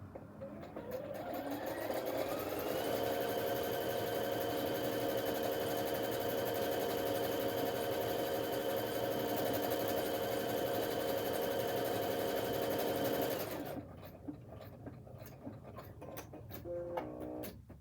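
A PFAFF Expect 350 sewing machine stitches a buttonhole in a fast, continuous mechanical whirr for about eleven seconds, then stops, leaving faint clicks and handling noises.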